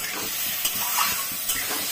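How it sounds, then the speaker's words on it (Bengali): Eggplant frying in a pan with a continuous bright hiss and sizzle, broken by a few small crackling pops. "বেগুনটা ভাজা হোক ততক্ষণে"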